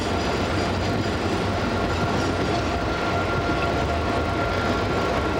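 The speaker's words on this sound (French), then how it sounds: "Enfin, à distance de bloc, le 5792 démarre à son tour." A night train on the Dijon-Lyon line pulls away from a station, giving a steady, dense rumble of rolling wagons and wheels on rails at constant loudness throughout, with no voices.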